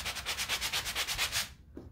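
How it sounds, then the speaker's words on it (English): A chalk-painted wooden riser gets a light hand sanding, a rapid series of about a dozen rhythmic rasping strokes, close and steady, then a brief stop. "a light sanding."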